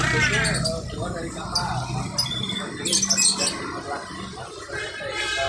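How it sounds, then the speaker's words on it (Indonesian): Pet birds chirp and squawk in short bright bursts inside a bus company's office, with people talking and general room noise mixed in throughout. "Jadi sekalian penumpang bisa mendengar kicau-kicauan burung ya teman-teman ya."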